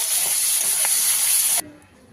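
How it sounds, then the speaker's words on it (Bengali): Prawns hit hot oil in a kadai with a loud, bright hiss that holds steady for about a second and a half, then cuts off abruptly to quiet. "চিংড়ি মাছগুলো ভেজে নেব।"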